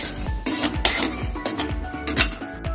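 Repeated scraping and clanking of a utensil stirring thick mashed pav bhaji vegetables in a metal pan, close up, with a faint sizzle underneath.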